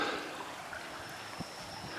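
Water of the Pasłęka river flowing beside a railway bridge, a soft steady rushing trickle heard close and continuous with no talk.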